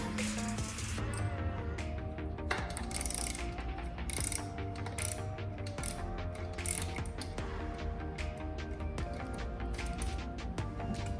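Ratchet with a 14 mm socket clicking steadily as it turns a bicycle crank bolt during a square-taper crankset removal, a busy run of close mechanical pawl clicks and metal ticks lasting the whole stretch with no talking.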